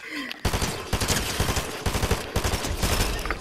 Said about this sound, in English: The hell was shooting at me?